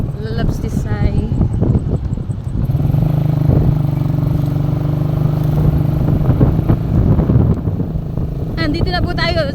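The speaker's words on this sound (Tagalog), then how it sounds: "May motor." A motorcycle travels along Paliparan Road, its engine a steady broadband drone close by, mixed with wind buffeting across the microphone and brief bursts of other traffic.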